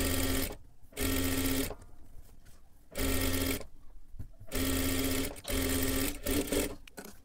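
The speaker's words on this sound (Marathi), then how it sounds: "आता इथे आपल्याला पूर्ण पाठीच्या बाजूला शिलाई करून घ्यायचं आहे." Steady bursts of a sewing machine stitching the back of a blouse, loud and close, running in several separate runs with short pauses between them.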